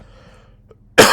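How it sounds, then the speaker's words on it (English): A person coughs once, a single sharp close burst that breaks a near-silent pause at the very end. "I'm sorry about all the coughing right now"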